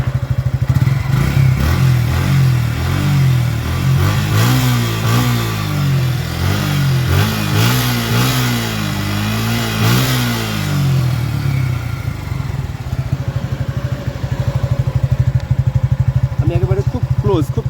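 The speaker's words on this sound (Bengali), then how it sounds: "স্টার্ট অবস্থায় এখন বাইকের নয়েজটা কীরকম সেটা আপনাদেরকে শেয়ার করবো" A motorcycle engine idles steadily after being started, a loud continuous throb with a rhythmic clatter that holds for the whole stretch and eases slightly near the end, with a voice talking over it.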